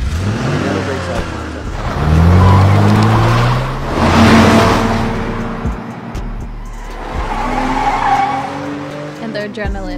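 A car in a James Bond film scene revs hard and skids with squealing tires, loud engine surges rising and falling over about ten seconds, with voices talking over it.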